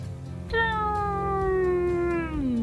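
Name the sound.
human voice imitating an airplane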